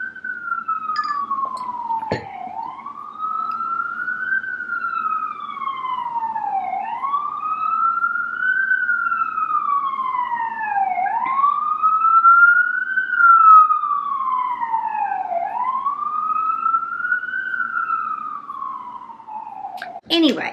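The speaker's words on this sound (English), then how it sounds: "the sirens go by" A loud wailing siren rises and falls in long repeated sweeps, sustained and prominent, fading slightly as it passes.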